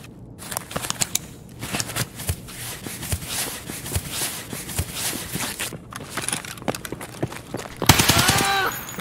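HK UMP submachine gun in Escape from Tarkov firing rapid bursts of sharp shots, interspersed with clicks and handling rattles, ending in a louder sustained burst with ringing metallic tails.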